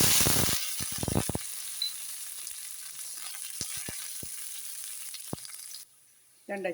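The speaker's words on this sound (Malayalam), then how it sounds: "പിന്നെ സാധാരണ കടുക് വറുക്കാനുള്ള എല്ലാം." Mustard seeds, cumin and a little fenugreek spluttering in hot oil for a sambar tempering, with sharp pops and crackles over a steady sizzle that stops near the end.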